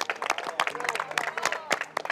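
A studio audience on a reality TV show gives a short burst of lively clapping and cheering, mixed with a host's voice talking over it.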